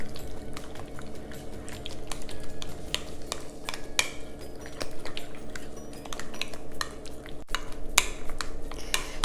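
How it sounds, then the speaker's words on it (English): Creamy dip ingredients for a bacon dip being stirred together in a bowl, with steady scraping and clinking of a utensil against the bowl that continues close up, with no talking. "we're gonna go ahead and get all these creamy things mixed up"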